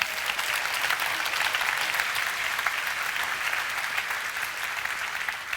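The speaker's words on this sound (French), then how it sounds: "On peut l'applaudir" Audience applause for Jacques Attali at the Positive Economy Forum in Le Havre, with dense, sustained clapping from a sizable crowd holding steady for several seconds.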